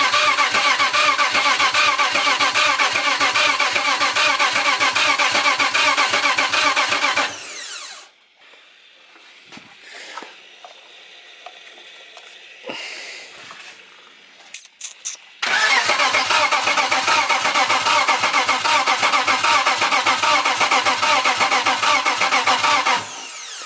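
BMW M52 turbo engine in an E90 cranking on a first start attempt, a loud, rapid, even starter churn that stops for several seconds of quiet workshop noise, then resumes just as loudly.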